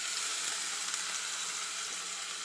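Onions frying in oil in a pan while a Tamil kollu rasam is being made, giving a steady, dense sizzle with a faint crackle that holds evenly and alone throughout.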